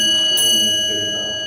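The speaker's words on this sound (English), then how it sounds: "Westinghouse dinner bell" A single chime from a 1970s Westinghouse Selectomatic Mark IV traction elevator at Tampa International Airport, a bright ringing tone that sustains and slowly fades, close and loud with no talking.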